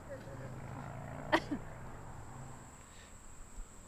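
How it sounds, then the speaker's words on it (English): A dog at a disc dog doubles competition gives a single sharp sneeze from kicked-up dust, followed by a tiny second snort, brief and close against a low steady hum and outdoor background. "Apparently they're kicking up dust, making her sneeze."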